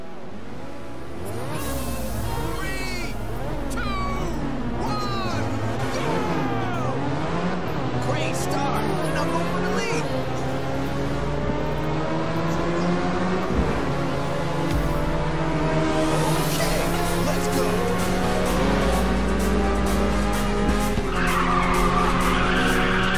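Race cars in Ridge Racer 6 squeal their tires through long, wailing drifts under a continuously roaring engine, loud and close, with shifting pitch as the skids rise and fall and brief voice and game sounds mixed in.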